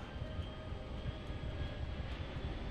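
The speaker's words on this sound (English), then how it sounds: "That is a big plane." Large American Airlines passenger airplane flying past in GTA 5, a steady broad engine roar and rumble, continuous and fairly loud with no talking.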